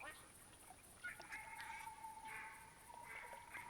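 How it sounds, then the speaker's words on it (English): Mallard ducks quack in the video game theHunter Classic, faint and somewhat distant, in short repeated bursts over a soft, steady ambient hum. "These are mallards. You can hear quack, quack, quack."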